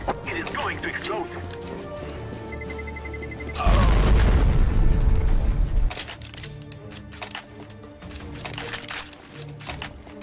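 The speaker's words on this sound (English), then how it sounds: "Terrorists win. It is going to explode." A bomb explodes in Counter-Strike: Global Offensive, a loud, low, rumbling boom that swells suddenly and fades over a couple of seconds, set amid game noise with players talking before and after.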